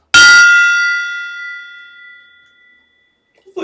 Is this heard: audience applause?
no